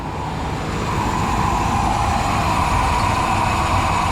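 Engine of a 1995 Ford F-150 with newly replaced lifters idling steadily and smoothly, a continuous low rumble with an even hum that holds level throughout, close by and alone with no talking.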